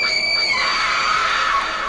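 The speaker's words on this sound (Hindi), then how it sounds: "उसके मुंह से एक खौफनाक चीख निकली।" A sustained high-pitched horror scream sound effect rings out loud and steady for about two seconds, with no speech over it.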